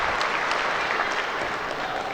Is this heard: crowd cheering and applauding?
yes